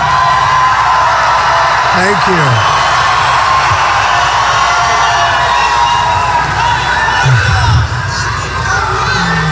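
Political rally crowd in Raleigh, North Carolina, loud and close, whooping, yelling and cheering in a sustained roar, with a voice briefly heard over the din.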